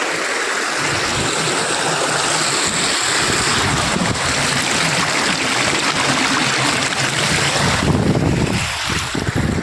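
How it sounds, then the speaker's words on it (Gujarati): Rushing water of the Kalubhar river roars continuously nearby, a broad steady wash mixed with gusts of wind buffeting the microphone. "પાણીનો અવાજ ઘડીક થોડોક સંભળાવું"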